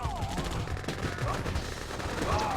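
Rapid bursts of gunfire and dense battle noise come from the Red Alert 2: Yuri's Revenge strategy game as units shoot at a building, loud and continuous throughout the short stretch.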